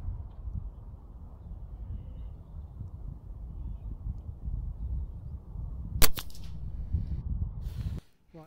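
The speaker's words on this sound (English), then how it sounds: "We killed one with a spring gun at 100 yards." A single sharp shot from an Air Arms TX200 spring air rifle fired at a target 100 yards away cracks out once over steady outdoor background rumble, followed by a brief ringing tail.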